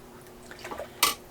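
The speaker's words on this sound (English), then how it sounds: "I am going to add just a little bit more broth." Broth poured into a canning jar of venison meat for pressure canning, soft trickling and dripping liquid that ends in one brief louder splash, close and quiet, with no talking.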